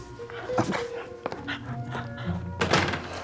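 Dog heard amid a busy domestic scene, a few brief barks and whimpers mixed with thuds, a door sound and a low background hum, close and moderately loud.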